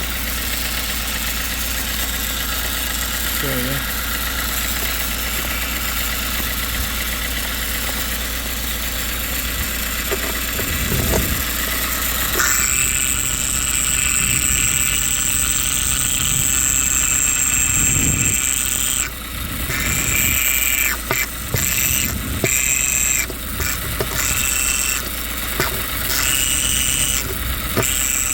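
A Fiat Multijet diesel car engine with an abnormal noise idles with a steady low rumble, then an irregular high-pitched squealing and whining starts and cuts in and out over the drone; one brief word is spoken.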